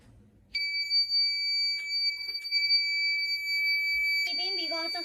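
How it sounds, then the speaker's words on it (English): A bomb detector robot beeps near metal with a steady, loud, high electronic tone that holds for several seconds, then breaks into a warbling alert at the end. "Beeping because of the metal underneath."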